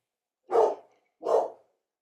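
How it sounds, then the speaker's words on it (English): A dog at home indoors at night lets out two separate barks about three quarters of a second apart, fairly close and clear against an otherwise silent room. "can you hear my dog?"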